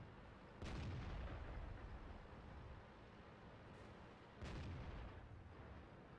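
A tank gun fires twice in the video game World of Tanks, each shot a loud, deep boom close by that decays into a rumbling tail, about four seconds apart, with no talk.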